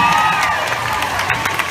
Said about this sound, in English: How about a big round of applause for Laurie Hernandez